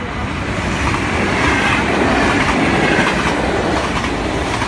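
A train passes at Nieuwstadt in the Netherlands, a loud, steady rush of rail noise with rhythmic clickety-clack of wheels over the track joints that holds for the full length, close by and with no talk over it.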